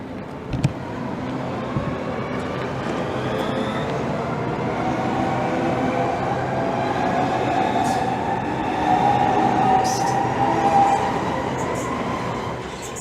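A Southeastern Class 395 train pulls away from Gillingham station, a steady rolling rumble with rail clatter building and holding at close range for the full length, a faint squeal rising midway.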